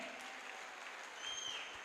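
Applause at a celebration honouring a mentor, heard faintly and at a distance as a soft, steady wash of clapping with a thin tonal whine above it, and no speech.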